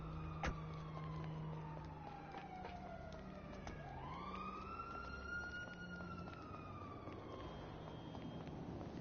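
Police sirens wail in GTA 5 Online, a rising and falling electronic tone sweeping steadily across the whole stretch at moderate distance, layered over game engine rumble and traffic noise.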